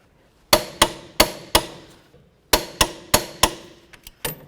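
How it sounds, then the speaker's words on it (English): Sharp metallic clicks from a torque wrench and socket tightening front strut bolts on a 2003-08 Toyota Matrix, about nine loud, close strikes in two quick bursts separated by a short pause. "Now we're going to go ahead and torque these bolts, get our socket on there, and of course our wrench."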